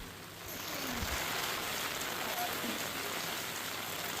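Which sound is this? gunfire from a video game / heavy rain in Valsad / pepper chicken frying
heavy rain in Valsad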